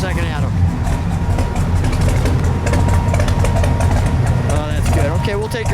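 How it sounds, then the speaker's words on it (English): A 1970 Plymouth Road Runner's V8 idles steadily with a low, rumbling drone, while people talk over it nearby. "Let me listen to that idle for a second."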